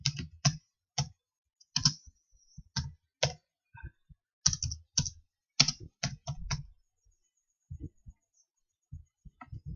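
Keys tapped on a computer keyboard while typing a short phrase into a text box, coming in quick bursts of clicks with pauses between, then sparser isolated taps toward the end.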